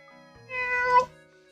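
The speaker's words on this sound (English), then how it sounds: "What's this cat doing here?" A single clear, close meow from a cat in the video game Professor Layton and the Curious Village, rising and tonal, with quiet around it.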